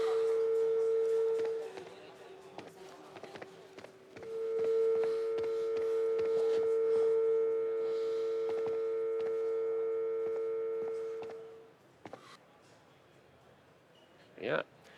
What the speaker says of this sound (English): It's the phone receiver.